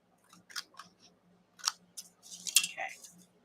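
Scissors trim paper while clearing up folders in a studio, giving several quick, crisp snips spread across a few seconds, close and moderately loud, with some faint handling noise between cuts.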